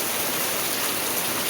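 Heavy monsoon rain pours down on a Konkan village, a dense, steady hiss of downpour that stays loud and even throughout with no voices.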